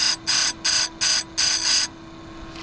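A Stihl 400c chainsaw chain is sharpened on a powered grinder, heard as five short, loud, buzzing bursts in an even rhythm over a steady motor hum, close by.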